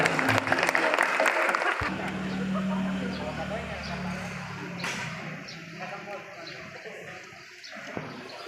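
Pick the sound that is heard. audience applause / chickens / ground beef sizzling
audience applause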